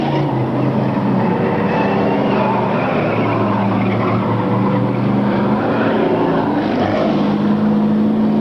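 Race cars roar past at an auto race, a continuous loud engine drone with rising and falling pitch as they go by, steady throughout with no talk.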